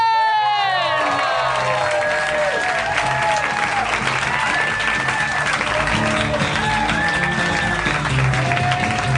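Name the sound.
live audience applauding and cheering a host's entrance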